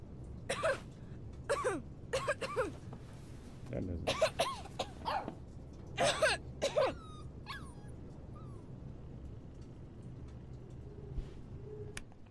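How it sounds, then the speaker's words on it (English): Repeated short coughs from the character Daniel in the Life is Strange video game recur in bursts across the scene, with dog yips and whimpers mixed in over a steady background hum. "Why do they keep using the same coughing sound for Daniel?"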